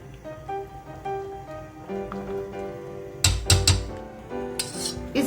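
Utensil stirring cream into a rosé pasta sauce in a pan, with a run of metallic clinks and scrapes against the pan that gets louder and busier toward the end, with no talking.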